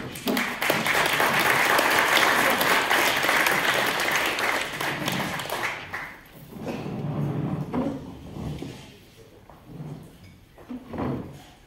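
Audience applause welcoming a speaker onto the stage at a conference talk, a dense, loud burst of clapping for about six seconds that then thins out into scattered claps and room noise.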